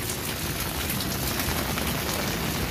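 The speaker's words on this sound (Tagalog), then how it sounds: "Dahil na umuulan." Steady rain falling outdoors along a riverside esplanade walkway, a dense continuous hiss of drops pattering on surfaces, close and even throughout with no voices.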